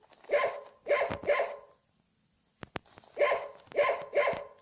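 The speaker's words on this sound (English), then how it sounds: "Dog." A dog barks in two quick bursts of three sharp, close barks each, separated by a quiet gap with a couple of faint clicks.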